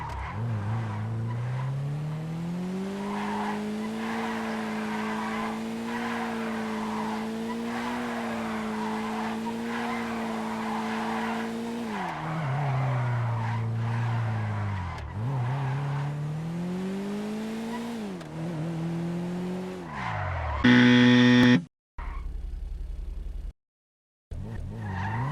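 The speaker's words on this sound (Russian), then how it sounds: "При форсировании машины срыв в дрифт случается практически постоянно." Karin Futo car from a video game drifting, engine droning steadily with long tire squeal and skidding, pitch dipping and rising as it slides, then cutting to abrupt bursts and silence near the end.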